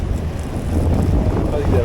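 A fishing boat powered by a Honda outboard motor runs at sea, giving a loud, steady rumbling drone mixed with buffeting wind noise that continues without a break.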